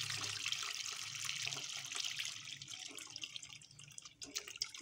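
Whey from vinegar-curdled milk pours and trickles through a muslin cloth into a container, a steady close splashing and dripping of liquid with no talking.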